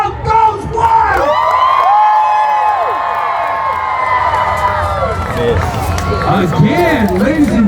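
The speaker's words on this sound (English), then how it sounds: "And the crowd goes wild!" A Renaissance fair crowd cheers wildly at a joust, a dense, loud roar of whoops and shouts that holds steady for several seconds before breaking into scattered yells.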